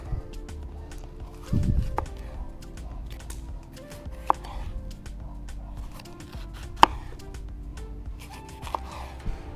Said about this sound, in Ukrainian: Перчик нарізаємо так само великими шматками